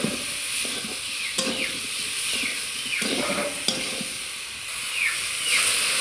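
Cauliflower and potatoes cook in a pan with salt, turmeric and chilli powder, a steady sizzle and steamy hiss with repeated close spatula scrapes, with no voices.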